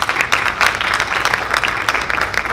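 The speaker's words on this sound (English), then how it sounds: "Give our Commissioner Frisbee a round of applause." An audience at a community gathering breaks into warm, continuous applause, many hands clapping together at close range for the whole stretch, without any clear speech above it.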